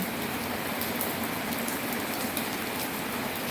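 Steady rain falls in still, windless air at a rural Thai home, a dense, even hiss of drops striking surfaces that holds constant throughout with no gusts and no voices.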